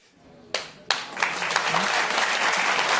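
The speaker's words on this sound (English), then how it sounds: "people are clapping here, and I understand why you're clapping" A couple of sharp early claps quickly swell into broad studio audience applause that holds steady and fairly loud. Faint talk sits underneath.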